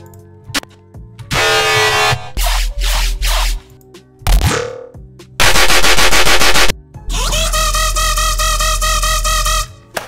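A Serum synthesizer bass preset plays aggressive, distorted tear-out style hits in choppy bursts of varying length, loud and gritty with sharp cut-offs and short gaps between phrases.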